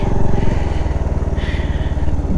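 A motorcycle engine idles and putters close by during parking in Pelling, West Sikkim, a loud rapid chugging pulse that holds steady throughout.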